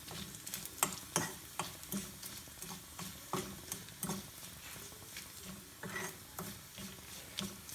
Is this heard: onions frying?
yes